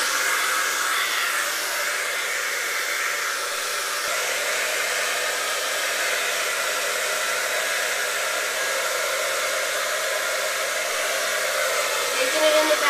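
A hair dryer blows continuously at close range while hair is brushed straight with a paddle brush, a steady loud airy roar with no pauses.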